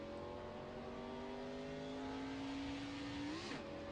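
Sim race cars roll off for a pace lap at Sonoma, with a faint engine drone that climbs slowly in pitch, then a quick rev near the end and no commentary over it.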